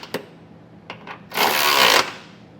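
Brief power-tool burst of about a second tightening trailer hitch bolts with a 19mm socket on a hidden receiver install, preceded by a few sharp metallic clicks.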